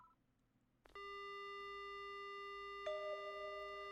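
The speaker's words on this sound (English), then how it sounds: "The only sound I hear is the dial tone." A telephone dial tone in the Spirit Hunter: Death Mark video game starts right after the handset is picked up, a steady, loud multi-tone hum that holds unbroken, with a slight shift partway through.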